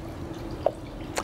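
Water drips off a freshly washed motorcycle: two distinct, faint, close drops land over a quiet background, one after the other.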